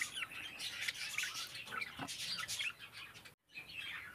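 Lacewing budgerigars in a breeding cage chirp and chatter in a busy, continuous stream of quick tweets, close by, with a brief gap near the end before the calls resume.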